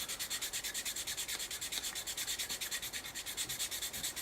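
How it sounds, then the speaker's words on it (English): Steady rhythmic rubbing of abrasive across a plastic air intake on a Tamiya 1/32 F-16 CJ model kit, a close, even back-and-forth scrub repeating several times per second, with no talking. "And just rub away till all the lumps and bumps are gone."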